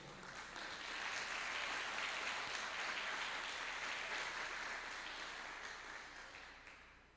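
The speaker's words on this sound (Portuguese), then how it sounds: "Você pode aplaudir o nome do Senhor?" A church congregation applauding during a Protestant family celebration service, broad steady clapping that swells, holds, then fades away, heard from some distance and fairly faint.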